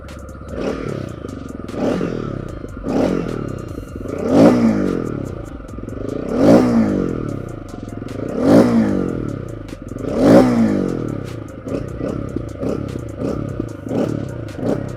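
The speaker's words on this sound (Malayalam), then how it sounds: "ഇനി ഇതിൻ്റെ എക്സോസ്റ്റ് നോട്ടോടെ നിങ്ങളൊന്ന് കേട്ട് നോക്കുക." A TVS Ronin motorcycle with a cold engine and a loud stock exhaust idles, then is revved repeatedly in rising and falling surges, close by with no talk.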